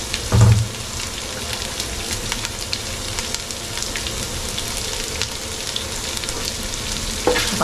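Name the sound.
ginger and garlic frying in a pan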